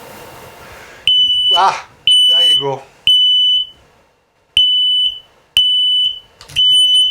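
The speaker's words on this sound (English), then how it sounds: "even vapour will set the smoke alarm off" A smoke alarm set off by vapour sounds in repeated loud, shrill electronic beeps, several long bursts with short gaps, while a voice speaks briefly between them.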